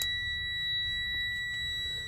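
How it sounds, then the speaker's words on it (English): Low air pressure warning buzzer in a truck's air brake system, a continuous electronic tone with two steady high pitches sounding throughout over a faint low rumble. "my low air warning light and buzzer came on no lower than 55 PSI"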